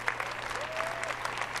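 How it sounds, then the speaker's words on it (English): A crowd at the EA E3 conference claps steadily, a dense patter of applause heard from a moderate distance with a low hum underneath. "Let's give them all a round of applause."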